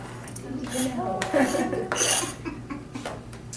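A spoon stirs corn into black bean salsa in a bowl, giving a close run of scraping clinks and soft wet mixing for several seconds with no talk.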